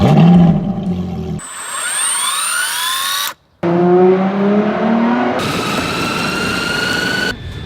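A loud, high-pitched electric skateboard motor whine that rises and falls in pitch, cutting out briefly before revving up again, close by.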